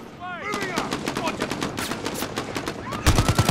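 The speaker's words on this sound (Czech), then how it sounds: "Civoši tady dostávají od lehkých kulometů." Rapid bursts of gunfire and light machine gun fire from Call of Duty: Modern Warfare (2019), dense overlapping shots rattling continuously, with a heavier, louder burst near the end and faint voices mixed into the battle.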